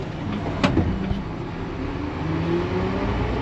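A six-wheel-drive truck's engine revs up and holds a steady, loud drone with a sharp knock near the start, alone with no talk.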